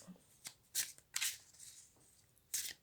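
Tarot cards are shuffled by hand for a love reading, several quick crisp riffling bursts close by with short pauses between them.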